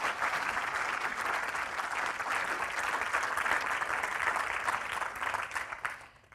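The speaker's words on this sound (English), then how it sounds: "will you please give a very big round of applause to tonight's moderator, Philippa Whipple." An audience at an evening conversation event applauds the moderator, a dense, sustained round of clapping that holds steady for several seconds before tapering off at the end.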